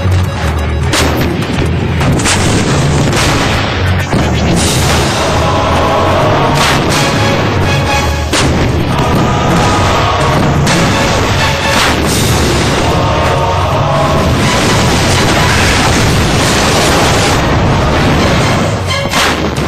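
Bofors artillery guns fire shells in a dense, loud barrage of booming blasts and sharp reports that repeat irregularly across the whole stretch, thick with rumble and echo.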